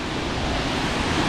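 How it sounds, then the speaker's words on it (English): Overflow water gushes out of the drainage tube at Upper Girard Lake in Girard, Ohio, a loud, steady broadband rush heard up close with no voices. "there's the overflow water coming out of there"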